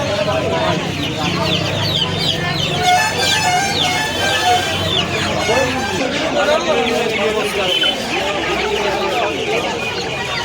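Many chickens, including large Australian-breed birds, cluck and squawk continuously nearby amid a busy crowd at a poultry market in Uluberia near Kolkata, with people talking throughout.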